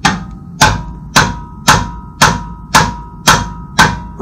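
A Siebenrock wrench on a BMW Airhead exhaust nut is struck hard with a hammer, giving eight loud, close metallic blows in an even, steady rhythm about every half second, each ringing briefly before the next.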